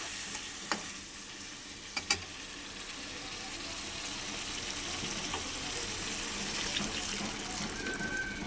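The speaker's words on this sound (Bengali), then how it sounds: "এবারে আমি জল দিয়ে দেবো এর মধ্যে।" Water poured into a pan of frying spice masala for a fish and eggplant curry, a soft sizzle and steady hiss with a few sharp clinks near the start, close and moderately quiet, no talking.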